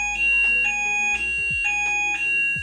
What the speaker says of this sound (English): Oh, that's the fire alarm.